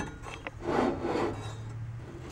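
A riding mower deck blade spindle spun by hand, giving a brief soft rubbing whir that swells and fades within a couple of seconds, close and quiet.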